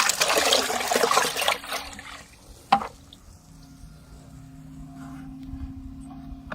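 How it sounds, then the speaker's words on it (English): Mixed spray solution poured into a yellow bucket, a splashing gush for about two seconds and a thump, then a faint trickle and quiet drips. "Let's see how much gonna left if I pour it to the yellow bucket."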